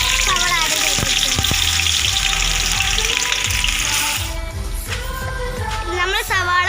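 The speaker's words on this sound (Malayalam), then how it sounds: "അപ്പോൾ നമ്മൾ അതിലേക്ക് സവാള ആഡ് ചെയ്ത് കൊടുക്കുന്നു." Onions hit hot sunflower oil in a pan with a loud, close, bubbling sizzle that fades slightly after a few seconds as a person starts talking over the continued frying.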